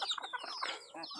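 Desi chickens clucking on a farm while being fed papaya: several short, close, overlapping clucks and squawks in quick irregular succession, with no voices.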